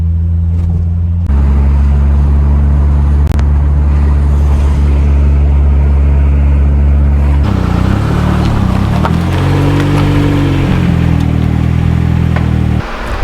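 A Ford Sierra Cosworth drives along with a loud, continuous low engine drone close by. The engine note shifts partway through as the car changes pace, and no voices are heard.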